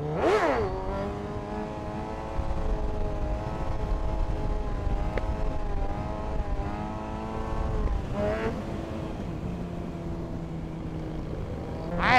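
A black Suzuki car near Varna revs and accelerates repeatedly, engine pitch climbing and falling in close, loud sweeps, with a sharp deceleration between pulls and no voices.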